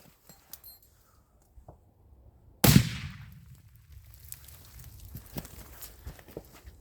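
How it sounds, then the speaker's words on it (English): A Soviet F1 hand grenade, thrown outdoors, bursts in a single loud, sharp blast after a few quiet seconds of faint handling noises, followed by a long fading rumble and scattered debris patter. "And let's throw the grenade."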